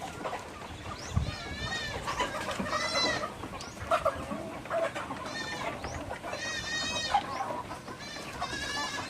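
Chickens cluck and squawk repeatedly at close range on a farm, mixed with bleating goat-like calls from a busy group of farm animals.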